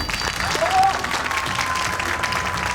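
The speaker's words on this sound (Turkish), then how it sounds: "Birinci liderimizi alkışlarınızla." Studio audience applause greeting the first leader on a Turkish competition show, a steady dense clatter of clapping with crowd noise and a brief voice over it.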